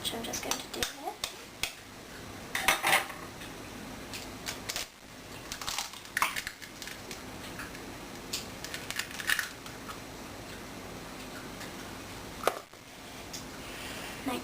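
Eggs cracked one after another into a jug while making a vanilla iced chocolate layered cake, giving sharp, brief taps and clicks spaced irregularly over a quiet kitchen background.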